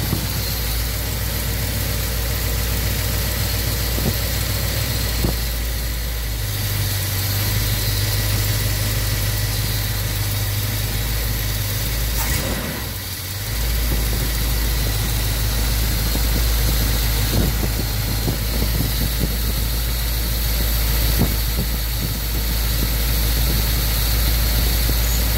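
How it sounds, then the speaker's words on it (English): A car engine with a Holley carburetor idles steadily and loudly up close for a long stretch, with a deep constant rumble and slight shifts in pitch as the idle is lowered. "I'm gonna drop the idle down a little bit more."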